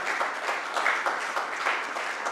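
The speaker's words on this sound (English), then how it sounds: "I would want everyone to give a huge round of applause" Dinner guests at an annual stakeholders' dinner applaud steadily, a dense wash of many hands clapping at a moderate, even level throughout with no voices standing out.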